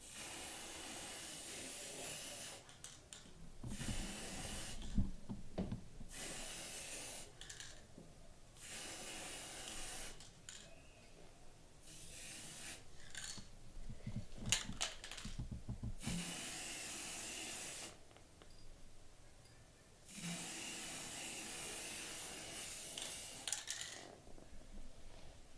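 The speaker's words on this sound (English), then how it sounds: "spray from some distance" Several bursts of hissing spray from a chrome spray paint can, each lasting a second or two with pauses between, fairly quiet and without speech.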